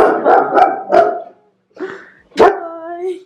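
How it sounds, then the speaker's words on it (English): A dog barks loudly several times in quick succession close by, pauses, then gives a couple more barks ending in a drawn-out, whining howl. "Why are you barking at me?"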